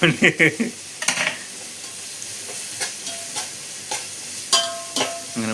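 Onions frying in a pan for a sardine curry (mathi curry), with a low sizzle and a few sharp spoon-stirring clatters that come in bursts, loudest at the start.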